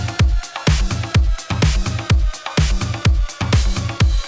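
A punchy electronic kick drum sample taken from a track pounds in a fast, driving rhythm with deep, booming low thumps and a snappy attack, looping cleanly and alone over about four seconds.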